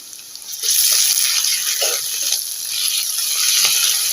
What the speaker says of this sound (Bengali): আদা রসুনের কাঁচা গন্ধটা চলে যাওয়া পর্যন্ত আমি ভাজবো